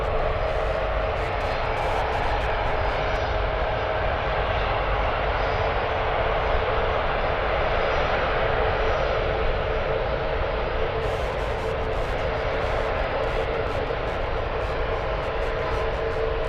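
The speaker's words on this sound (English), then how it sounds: "All right, A380 is taxiing on the runway." An Airbus A380 airliner taxiing at San Francisco International Airport gives off a steady, unbroken jet-engine roar that holds at an even level throughout, with no voices.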